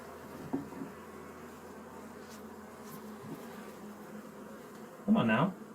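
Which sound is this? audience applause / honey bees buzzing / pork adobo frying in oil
honey bees buzzing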